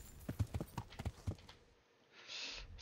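Horse hooves clip-clop at a steady riding gait for about a second and a half in Kingdom Come: Deliverance, fairly close and clear, then fading into a soft hiss.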